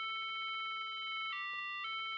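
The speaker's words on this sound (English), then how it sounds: "I hear a melody that I know all too well." A phone ringtone melody plays in a video game, a bright electronic tone that steps up and down between a few sustained notes, loud and clear with no talking.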